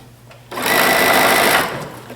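A sewing machine runs steadily for about a second, stitching through the two layers of a seam allowance while a pleated blouse is sewn together, loud and close with no one talking.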